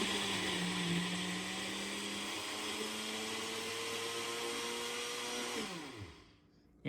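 A Ninja mixer grinder runs continuously on a ladoo mixture, a loud steady whirring motor with a rising pitch, then winds down and stops near the end.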